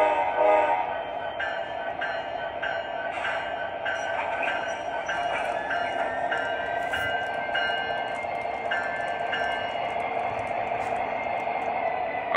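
An MTH O scale model freight train rolls steadily along its track as it starts moving out, with a continuous mechanical hum and rattle plus a horn-like tone near the start, fairly close and unbroken throughout.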